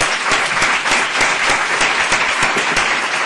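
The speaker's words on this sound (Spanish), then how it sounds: "darle un aplauso" Audience at an academic library science seminar giving a loud, sustained round of applause, with close individual claps standing out over the steady clapping of the room.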